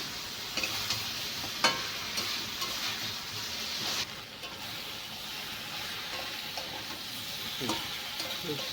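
Drumsticks and potato pieces stir-fried in oil with spices for a Bengali masoor dal: steady sizzling and frying with a scraping stir and occasional spoon clicks, close and moderately loud, no talk.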